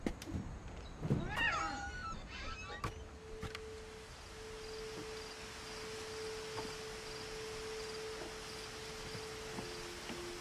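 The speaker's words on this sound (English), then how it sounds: "The cat." A cat in What Remains of Edith Finch gives a few short meows near the start, followed by a long, faint, steady tone and quiet ambience.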